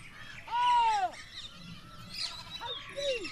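Peacocks fighting over territory in the Aravalli Biodiversity Park give loud, honking, wailing calls. Two bursts sound close by, separated by a short pause, over faint outdoor background noise.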